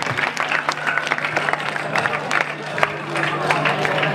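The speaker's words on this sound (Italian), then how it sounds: "Ragazzi, fatevi un applauso voi perché siete stati il numero uno" Crowd at a rock concert in a club applauding the band, dense overlapping claps with some chatter and shouts mixed in, steady and fairly loud throughout.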